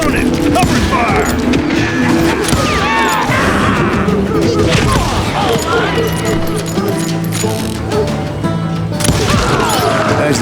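Gunfire in the Call of Juarez Gunslinger video game cracks and clatters in loud, rapid bursts, with crashing impacts and voices shouting over the fight.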